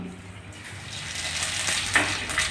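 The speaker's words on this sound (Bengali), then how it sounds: "প্রথমে আমি পাঁচ ফোড়নটা ফোড়ন দিচ্ছি" Panch phoron seeds hit hot mustard oil in a kadai, setting off a sizzle that swells and crackles over a couple of seconds, with a small metallic clink near the end.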